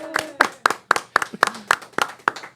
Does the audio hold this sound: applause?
yes